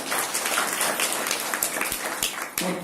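An audience claps in a hall, a dense steady patter of many hands at moderate loudness throughout, with a brief dip near the end.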